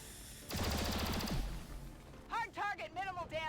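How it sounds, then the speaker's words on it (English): A rapid burst of automatic gunfire lasting about a second fires at an enemy in the turn-based strategy game XCOM 2 (Long War of the Chosen mod), loud and close, followed by someone talking. "So we're just gonna shoot at him."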